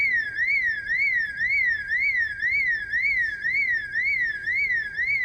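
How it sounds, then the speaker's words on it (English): A car alarm blares in the zombie survival game Project Zomboid, a loud, steady whooping wail that rises and falls in a fast regular cycle, alone and continuous. "They actually have an alarm."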